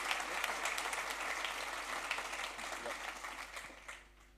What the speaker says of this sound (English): a round of applause for IONOS.